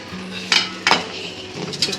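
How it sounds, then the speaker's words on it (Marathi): A metal kadhai being picked up and set down in a home kitchen while making palak matar paneer, two or three sharp metallic clanks and scrapes, close and moderately loud, with no speech. "आता कढई घेणार इकडं."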